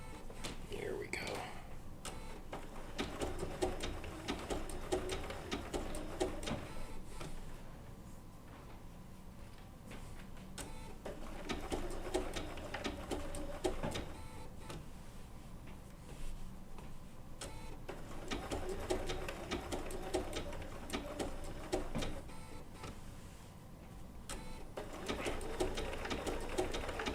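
A Bernina B790 PRO sewing machine with an open toe foot stitches wool applique in a steady, fast mechanical whir that runs the whole time, while a person talks quietly over it.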